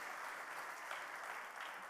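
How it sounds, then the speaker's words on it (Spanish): A TED talk audience at Universidad de La Sabana in Colombia applauds as speaker Andrés Chiappe comes on stage; an even, steady patter of many hands, faint and distant, with no voices. "Andrés Chiape, un aplauso"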